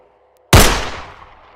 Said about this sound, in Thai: แล้วเสียงปืนก็ดังขึ้นจนผมหน้าสั่นไปหมด